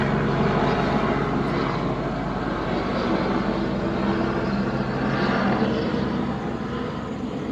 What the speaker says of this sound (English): Helicopter flying over me.